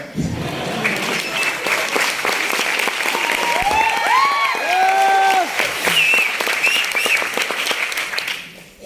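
Audience clapping during a motivational business speech in Hindi, dense and steady for about nine seconds, with cheering voices and whistles rising over the applause midway.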